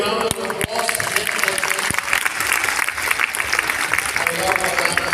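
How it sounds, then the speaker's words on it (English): Applause from an audience at a National Bible Day celebration, a steady, moderately loud patter of clapping with a few sharp knocks near the start. "A big round of applause."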